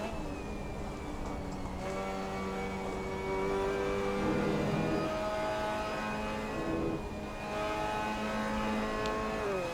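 Mazda MX-5 Cup race car at Hockenheim in Assetto Corsa, its engine droning at steady high revs with clear harmonic whine, pitch dipping and rising through the final corner, continuous and close with no talk.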